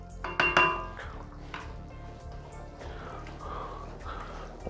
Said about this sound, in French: je vais y mettre mes patates et je vais rallonger un tout petit peu avec de l'eau